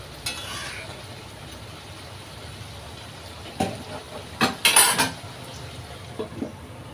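A spoon stirs a vegetable curry of pumpkin, potato and Malabar spinach in a pot, with soft scraping and a short burst of sharp metallic clinks against the pot's sides.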